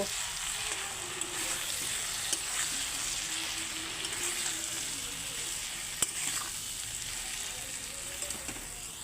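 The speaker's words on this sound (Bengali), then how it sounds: "সব মশলাগুলো দেওয়া হয়ে গেল এখন আমি ভালো করে কষিয়ে নেব" Spices and taro being fried and stirred in a pan, a continuous close sizzle with occasional soft scrapes and one sharp utensil tap, steady and moderately loud with no talking.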